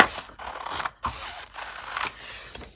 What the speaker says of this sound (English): I'm going to cut the bottom off.